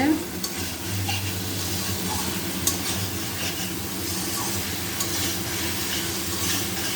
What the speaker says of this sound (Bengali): মশলাটা ভাজা ভাজা হয়ে গেছে তেলটা ছেড়ে দিয়েছে